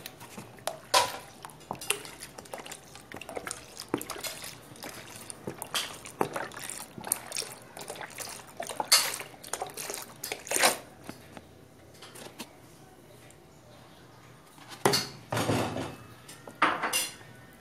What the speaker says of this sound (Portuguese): continuar mexendo